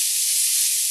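Capers sizzling and frying in hot butter and oil in a pan, a steady, dense, close hiss holding evenly throughout with no talking.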